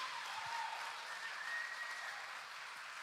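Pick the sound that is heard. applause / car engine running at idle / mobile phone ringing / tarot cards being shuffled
applause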